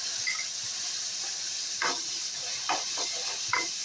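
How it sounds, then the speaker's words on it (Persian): Grated onion and pepper sautéing with mushrooms in a pan, a soft steady sizzle broken by a few louder stirring scrapes, close and with no talking. "پیاز و فلفل رو تفت میدیم"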